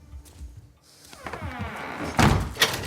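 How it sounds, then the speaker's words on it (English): A door is shut during a film scene, giving a solid thunk followed by a brief rattle, fairly loud and heard over a soundtrack with no talking. "Ah, I knew she was going to close the door."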